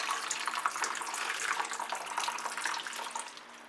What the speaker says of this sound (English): Each one gets two flushes. I let all this drain out.